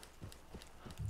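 Horse hooves clip-clopping at a walk in Red Dead Redemption 2, a few soft steady steps close by with a low thump at the end.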